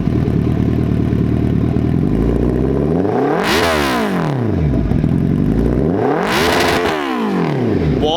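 Suzuki Hayabusa superbike with a loud aftermarket exhaust, revved twice in sharp bursts that climb and fall back to a rough idle, close and loud, with no talk.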